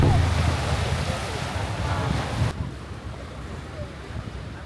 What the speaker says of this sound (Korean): 와 파도 엄청 세.